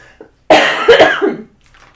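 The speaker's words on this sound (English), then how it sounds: "So excuse my coughing for a couple minutes here." A single harsh, close cough burst lasting about a second, preceded by a faint short catch of breath, then quiet.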